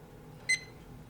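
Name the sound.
kitchen timer beeping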